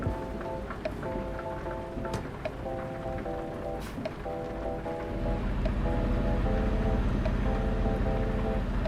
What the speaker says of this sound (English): So we're getting a bit of rain here.